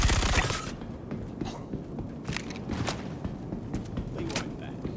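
Gunfire in the video game Star Citizen: sharp, scattered shots and rattling bursts at varying distances, with a heavier blast at the start, over a low mechanical background.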